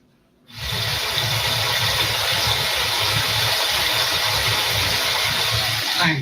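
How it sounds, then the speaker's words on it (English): A creek roars right beside a tent at a campsite in the Smokies, a loud, steady rushing of water that starts abruptly and continues unbroken. "It was kind of more of a roaring water."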